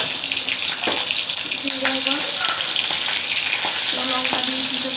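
Black cumin seeds and green chilies dropped into hot oil in a home kitchen, giving a bright continuous crackling sizzle with scattered sharp pops and stirring clinks, fairly close.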